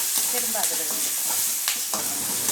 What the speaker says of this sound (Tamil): பூண்டு கருவேப்பிலை நம்ம வந்து எண்ணெய் காய்ஞ்சிச்சு இதை நம்ம போட்டுக்கிறோம்